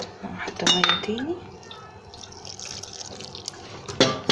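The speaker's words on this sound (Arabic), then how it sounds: "طبعا الميه بحط شويه شويه" Water is poured in small amounts onto dough being kneaded by hand for pastry dough, giving brief splashes and wet clinks up close, with soft dough handling sounds and a quiet voice in between.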